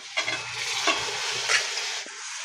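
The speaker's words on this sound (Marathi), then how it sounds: "आता आपण हे चिकन घालूया" Chicken pieces dropped into oily frying masala in a pan for a dark village-style chicken sukka, giving a close sizzle with a few scraping and clattering stirs over about two seconds, no voices.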